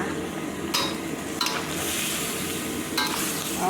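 Chili peppers and tomatoes sizzle steadily in a small pan while being stirred, with a few brief scraping clicks of a utensil against the pan.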